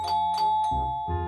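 A two-tone ding-dong doorbell chimes at a tree house in the Roblox game Brookhaven, clear and close with a steady background hum.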